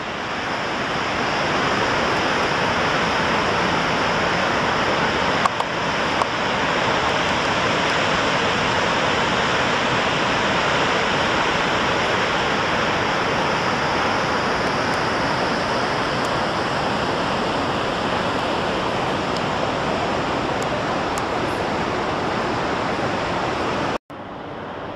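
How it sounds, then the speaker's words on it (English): Niagara Falls roars as a steady, dense rush of falling water. The sound is broad and continuous with no pauses, heard from a distance on the New York side. "And over there farther is Niagara Falls"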